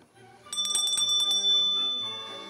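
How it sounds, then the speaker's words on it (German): A small bell rings rapidly several times, bright and close, then its tone lingers and fades as the ringing stops. "mit der Glocke kommt unser Weihnachtsengel, die Diana, mit den tollen Geschenken."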